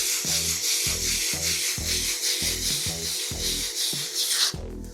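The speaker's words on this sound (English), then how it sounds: "use the fat sandpaper, just flat, give it a circular motion and just lightly rub over it" Sandpaper rubbed lightly in circular strokes over filler on a wall, a steady run of close, rhythmic scratchy swishes with no talking.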